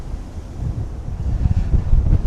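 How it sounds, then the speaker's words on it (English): Strong wind in Tsukiji, Tokyo buffets the microphone with loud, gusting low rumbles that build toward the end, with no voices. "it's so windy, I gotta take my hat off."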